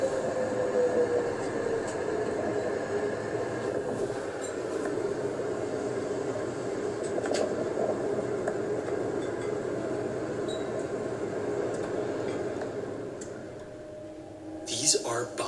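A tornado siren wails as the Mayfield tornado approaches, a sustained rising-and-falling tone heard from a front porch across the whole stretch, mixed with wind and rumbling outdoor noise.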